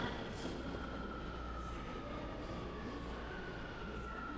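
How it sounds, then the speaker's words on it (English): A Panama City metro train arriving at Via Argentina station rumbles steadily with a faint high whine running over it, the noise even and unbroken throughout. "So here comes the train."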